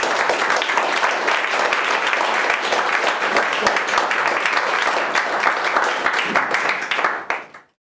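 Lecture-hall audience applauding to welcome a speaker before a talk on kinship in prehistoric Iran, a thick, continuous patter of many hands clapping at a steady level for several seconds before dying away abruptly.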